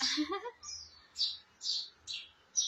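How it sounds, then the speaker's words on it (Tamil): Sparrow chicks chirp indoors, giving a series of short, high, fairly faint calls spaced irregularly over a quiet room. "குருவி ஒண்ணு கத்திக்கிட்டே இருக்குங்க"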